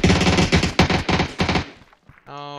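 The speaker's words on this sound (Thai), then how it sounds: "จะสังเกตว่าเสียงปืนก็ดังดีมากนะก็รู้ทิศทางว่ายิงมาจากไหนนะ" Rapid gunfire from a video game rattles out in quick bursts, loud and close, then tails off into a brief pause before a short tonal game sound.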